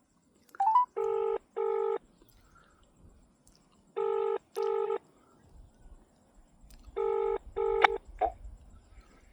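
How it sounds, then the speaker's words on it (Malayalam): A telephone call being placed, with a short burst of keypad dialing tones followed by paired ringback tones repeating at regular intervals, clear and isolated against a quiet background. "ഷർഷാദിനെ വിളിക്കാം"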